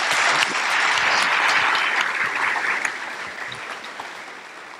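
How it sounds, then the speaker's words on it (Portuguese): An audience at an administrators' gathering in Niterói applauds with sustained, dense clapping that holds strong for a few seconds, then gradually thins and fades. "uma salva de palmas para a cidade de Niterói."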